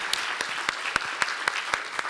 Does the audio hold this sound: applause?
yes